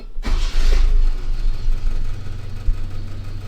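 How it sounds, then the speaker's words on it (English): A vintage Datsun 521 pickup truck engine cranks and catches, then settles into a steady low idle with a faint rhythmic pulse, close by and without talk. "if we start up the truck, make sure it's neutral"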